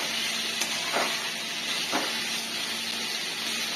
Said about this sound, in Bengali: আলুগুলো দিয়ে দিলাম, এবার এগুলোকে আলুগুলোকে একটু ভেজে নেব।